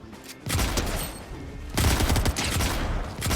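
Cobra DMR rifle fire in a Fortnite-style video game on Nintendo Switch, loud close bursts of rapid shots with a short break in the middle before a second burst, no talk.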